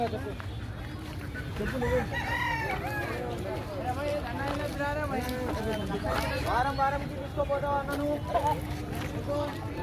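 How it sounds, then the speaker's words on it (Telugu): Several country roosters crow repeatedly over steady clucking of many hens for sale, with voices chattering nearby at the crowded Erragadda Sunday market in Hyderabad. "ఇక్కడ నాటుకోళ్ళు అమ్ముతున్నారు"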